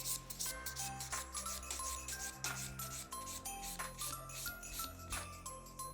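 Quiet, rhythmic rasping of a file beveling and shaping an acrylic nail, repeated short strokes over a steady musical background.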